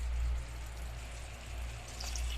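Water is poured into a pot of chicken biryani, making a soft, continuous stream and trickle over a low rumbling background, faint and steady throughout.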